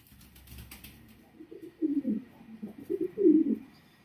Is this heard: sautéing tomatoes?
no